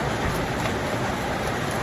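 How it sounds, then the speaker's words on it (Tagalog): Steady rain falls outside during the October monsoon season, a continuous dense hiss of drops on a surface, moderately loud and unbroken, with no voices over it. "maingay ha kasi umuulan"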